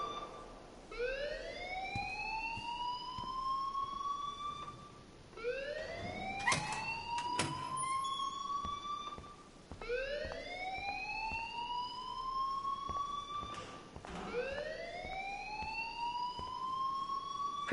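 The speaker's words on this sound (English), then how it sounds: "please turn off that alarm since that's your job" A school fire alarm in Life is Strange wails in repeated rising sweeps, four long whooping cycles at steady volume, with a few sharp clatters partway through and no talk.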